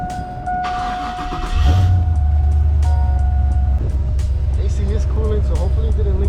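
A truck engine cranks and starts, then settles into a loud, steady low idle rumble, with a few clicks and a voice speaking over it.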